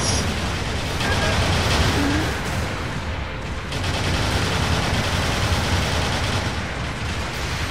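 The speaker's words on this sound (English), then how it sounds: "Look at all the bullets!" Dense, continuous gunfire rages throughout a battle in the mech combat game Gundam Battle Operation 2, a loud unbroken wash of overlapping shots with no pauses.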